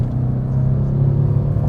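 A Mercedes-AMG C63 S engine pulls hard under sustained acceleration, a loud, steady low rumble and whir that holds without a break and with no talk.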